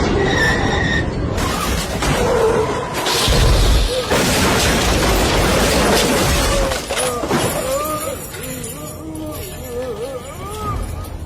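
A loud crash effect in a Hindi horror story set on a train, a harsh shattering burst and booming rumble that fades into eerie tones, with a voice speaking briefly.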